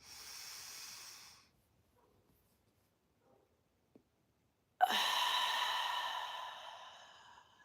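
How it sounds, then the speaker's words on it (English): A slow, deep breath drawn in through the nose and then released in a long exhale, heard close and clear with a quiet pause between the breaths. "let's go ahead and take one deep cleansing breath in through the nose"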